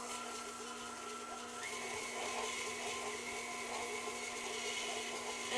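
An electric mixer whirs steadily while beating brown and white sugar together for homemade ice cream sandwiches, a close, continuous motor drone whose pitch shifts up partway through, with no talking.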